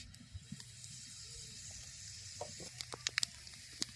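Half a small spoon of black cumin seeds dropped into hot oil in a pan, a soft steady sizzle with scattered sharp pops and crackles growing more frequent toward the end, quiet and close, no talk.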